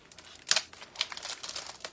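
A plastic bag crinkles close by as an item is pulled out of it, a quick burst of sharp rustles followed by lighter scattered crackles.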